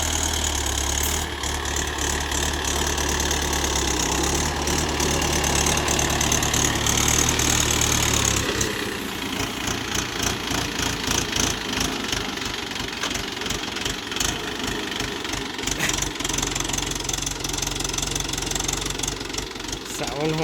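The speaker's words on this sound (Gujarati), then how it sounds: "આજે આપણું આ ટ્રેક્ટર" A farm tractor engine runs close by, first as a steady heavy drone and then shifting into a rough, rapidly knocking chug that continues loudly to the end.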